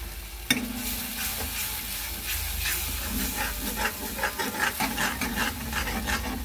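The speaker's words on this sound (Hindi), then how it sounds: "अब इसमें मैं ये अदरक और हरी मिर्च का पेस्ट डाल दूंगी।" Ginger and green chilli paste frying in oil in a pan, a steady close sizzle with scraping stir strokes and a sharp clatter near the start.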